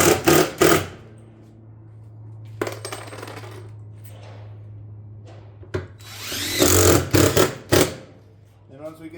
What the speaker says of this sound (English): we'll fasten each hole going across the ridge vent